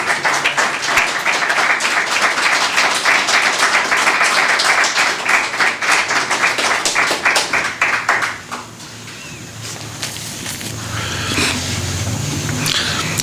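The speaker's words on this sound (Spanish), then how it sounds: "¿puedes darle un aplauso al Señor?" A church congregation breaks into loud, dense applause during a sermon, many hands clapping together for about eight seconds before it cuts off and the room settles into quieter murmuring.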